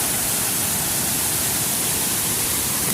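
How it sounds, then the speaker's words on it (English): A dramatic waterfall at Inversnaid, by a Scottish loch on the West Highland Way, gives off a constant, close rushing roar of falling water with no voices. "with this dramatic waterfall here"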